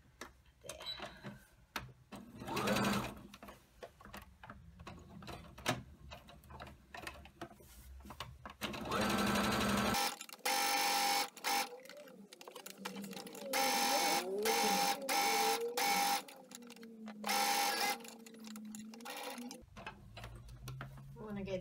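A sewing machine stitches a zippered pillow case in rapid mechanical bursts of whirring and ticking, starting and stopping several times, with a person talking between and over the runs.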